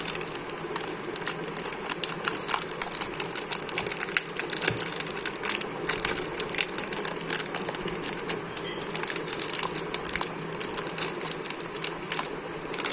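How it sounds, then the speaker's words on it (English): A plastic bag holding an X-Man XT3 V1 Pioneer puzzle cube crinkles and rustles throughout, dense and crackly, close to the microphone with no voices. "which is in a bag, plastic bag. It's hard to get out."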